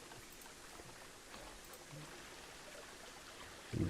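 Steady, faint trickling water in the Planet Zoo video game flows continuously as a soft, even wash, ending with a brief louder thump.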